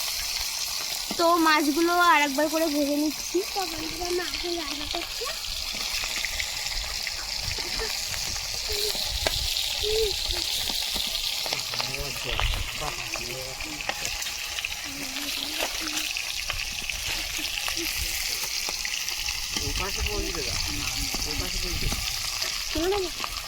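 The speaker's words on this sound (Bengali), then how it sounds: "হ্যাঁ, আমার মা রান্না করছে" Food sizzling steadily in a pan during outdoor cooking in the Sundarbans, with occasional stirring scrapes under a constant hiss, while voices talk nearby at times.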